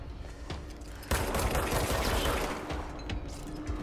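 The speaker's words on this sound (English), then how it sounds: "Who's shooting me?" Rapid gunfire from the video game Control bursts in suddenly and keeps rattling in dense, loud volleys over a few seconds, with mechanical clatter beneath and no talking.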